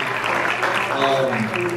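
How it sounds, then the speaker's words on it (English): An audience applauding an author at a talk, steady sustained clapping from many hands close by, with voices audible over it. "go ahead and clap for that, with 90 books"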